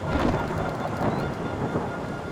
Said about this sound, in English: we saw the rain really start to fall